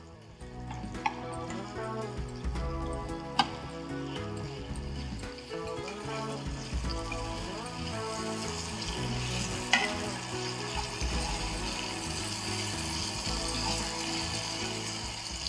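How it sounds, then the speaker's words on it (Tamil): Prawns fry with sliced green chilies and curry leaves in a hot pan, a close, steady sizzle broken by the scrape and clatter of stirring, with no talk. "இன்னும் கொஞ்சம் வதங்கட்டும்."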